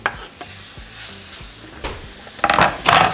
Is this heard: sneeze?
no